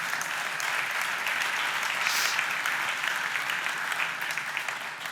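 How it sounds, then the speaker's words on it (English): Dense, even applause from the audience at a Mercedes-Benz opening keynote fills a large hall, loud and continuous throughout, with no speech over it. "yes, you can clap, of course"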